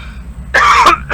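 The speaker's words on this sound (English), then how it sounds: "I hate when I cough on stream like that" A single rough cough or throat-clearing bursts out loud and close after a quiet hum, then a second short rasp follows.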